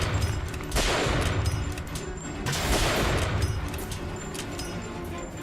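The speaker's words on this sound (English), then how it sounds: "So here we are with the sniper rifle, right?" Sniper rifle gunfire in the video game Bioshock Infinite, two loud booming blasts with long echoing tails that fill the clip, and no voices.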